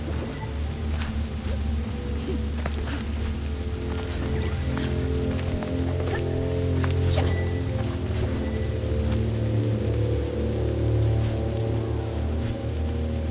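Steady rain patters continuously over a low droning hum, with scattered sharper drops and no voices throughout, in the video game Kena: Bridge of Spirits.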